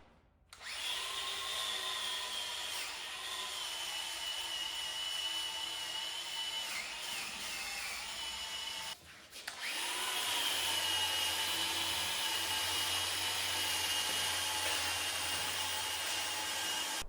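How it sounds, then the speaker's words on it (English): An angle grinder fitted with a wire wheel cleans cracks in a concrete floor, giving a sustained high-pitched whine that dips briefly midway, then resumes steadily and a bit louder. "I'm gonna hit all the cracks, in fact, with a little bit of the angle grinder with the wire wheel to kind of clean that stuff up"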